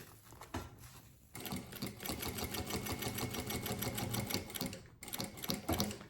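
Sewing machine stitching a small suitcase, running in steady bursts with a rapid regular needle rhythm, a short pause early and a brief stop near the end before resuming, close and clear.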